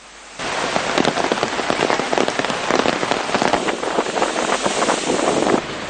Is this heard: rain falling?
yes